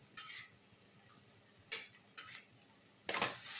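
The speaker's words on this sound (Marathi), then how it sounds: "आपण असं हलवून घेऊ ह्याला तव्यामध्ये" A spatula scrapes sprouted moth beans (matki) around an iron pan in four short strokes, each separated by a quiet pause.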